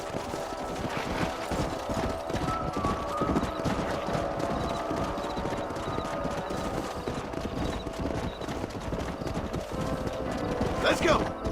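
Rapid hoofbeats of horses galloping in the video game Red Dead Redemption, a steady clattering rhythm through the clip with a whinny near the end, over a busy mechanical background.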